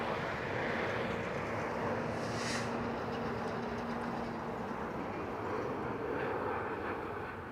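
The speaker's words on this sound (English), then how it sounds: "these planes just keep on coming" Airplanes at Toronto Pearson Airport, a loud, steady jet roar that holds for several seconds and fades slightly at the end, with no voices.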